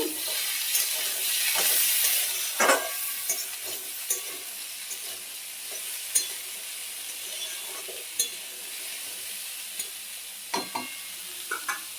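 Green chillies fry in a pan with boiled peas and chickpeas, a steady close sizzle with frequent clattering stirs of a spatula throughout.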